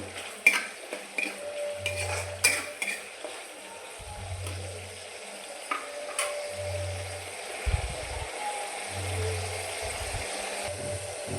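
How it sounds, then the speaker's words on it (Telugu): A utensil stirs curry leaf juice with turmeric and salt in a pan, giving soft, intermittent scraping and light clinks. The sounds are fairly faint and close, with a low hum in the background. "ఇప్పుడు దీన్ని బాగా కలుపుకుందాం."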